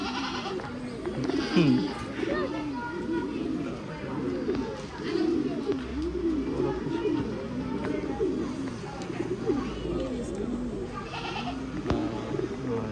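Domestic pigeons coo softly and repeatedly in a loft, a continuous bubbling murmur running under people talking throughout.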